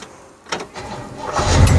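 A 1967 Chevrolet Impala engine cranks briefly and then catches, rising into a close, steady idle rumble that builds toward the end, with no voices heard.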